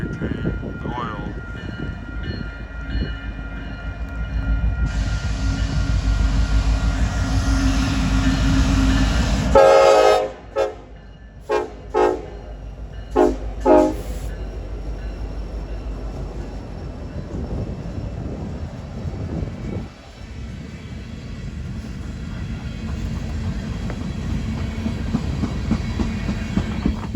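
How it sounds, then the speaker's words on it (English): An oil tanker freight train rolls past on a rainy day in Rochelle, its heavy rumble and rail clatter steady throughout, with a loud horn blast blaring midway before the rolling cars continue close by. "The tanker train, the oil."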